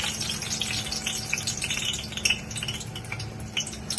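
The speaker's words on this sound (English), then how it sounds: "And just dip it in hot oil." Medu vada batter frying in hot oil, a dense steady sizzle and crackle with small pops throughout, close and even, with no talking.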